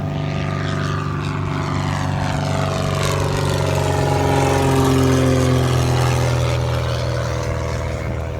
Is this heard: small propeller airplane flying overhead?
yes